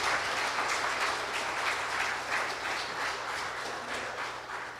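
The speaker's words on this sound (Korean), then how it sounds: "여러분 큰 박수 부탁드립니다." Sustained audience applause fills a book concert hall in Wonju, a steady dense clapping that holds at even loudness throughout with no voices over it.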